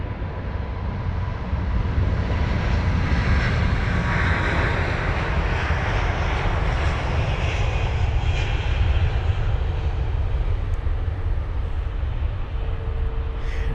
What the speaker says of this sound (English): Here's the Virgin 350 on the move, the 1000 to New York JFK.